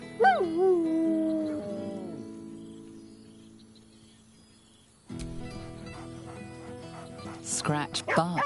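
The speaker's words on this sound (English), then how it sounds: "Scratch barks merrily in something like agreement." A dog in Baldur's Gate 3 gives drawn-out whining, howling cries that fade away, then follows with more yelps and yips after a quiet gap, all close and prominent over faint background ambience.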